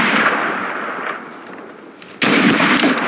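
Gunfire in the video game Mud and Blood, a dense crackling burst of shots that fades, then erupts again abruptly and loudly near the end.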